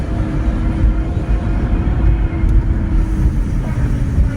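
A BMW E34 535i, sitting for years as a barn find, gives a steady low drivetrain drone with a faint thin whine on top, suggesting the differential or gearbox, loud and unbroken throughout.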